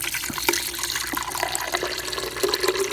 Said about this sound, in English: But with this, we're going to add some water.